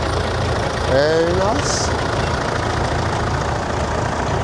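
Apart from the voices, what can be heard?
Nuffield 1060 tractor engine running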